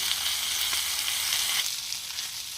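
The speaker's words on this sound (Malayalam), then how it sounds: "മത്തി വറുത്തെടുത്തിട്ടുണ്ട്" Sardines sizzle steadily in hot oil, a close, continuous crackling hiss that softens slightly toward the end.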